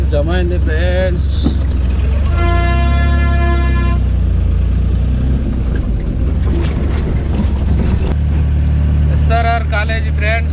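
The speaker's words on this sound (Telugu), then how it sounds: "ట్రాఫిక్ జమ అయింది ఫ్రెండ్స్." A traffic jam near a function hall and a bridge, with steady engine rumble and several drawn-out car horn honks. A voice talks over the noise throughout.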